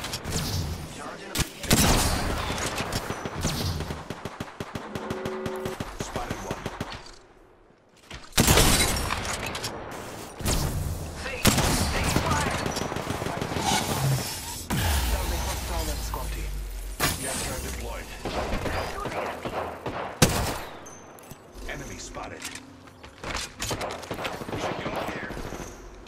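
Rapid gunfire in a shooter video game, repeated bursts and sharp cracks with a few short quiet gaps, mixed with game effects and people talking over the action.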